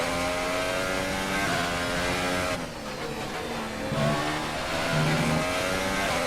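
Formula One race car engine in F1 2018 on a Russian Grand Prix circuit, the car running with a damaged front wing, screams continuously at high revs with gear shifts and pitch sweeps, loud and close throughout.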